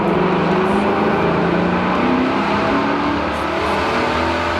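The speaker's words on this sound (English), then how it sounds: "we've got a 5 litre Mustang" A 5-litre Ford Mustang V8 with a big exhaust roars through a tunnel, a loud, dense, continuous engine drone with a slight rise in pitch, echoing and without speech.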